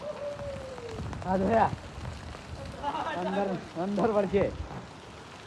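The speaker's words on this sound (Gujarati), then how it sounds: "મિત્રો જેવી આગાહી હતી ને એવો જ વરસાદ આવે" Steady rain falls in a village during a forecast downpour, a constant hiss of drops on surfaces heard beneath a man's speech.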